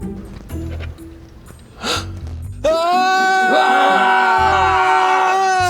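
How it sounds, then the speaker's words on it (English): After some quiet shuffling, a loud, sustained high-pitched scream erupts and holds for several seconds. "Stop screaming!"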